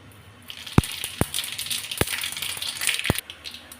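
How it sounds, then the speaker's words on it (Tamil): A few sharp crackles and pops against a steady sizzling hiss, scattered irregularly over a few seconds as mustard seeds and urad dal hit hot oil. "இப்போ எண்ணெய் நல்லா சூடாக இருக்குது இதெல்லாம் அரை டீஸ்பூன் அளவுக்கு கடுகு உளுத்த பருப்பு சேர்த்துடலாம்"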